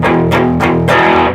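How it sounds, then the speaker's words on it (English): Four quick power chords on an electric guitar with distortion, palm-muted and played rhythmically, each attack loud and close, with a ringing tail after the last. "So there's just a little bit of distortion on there"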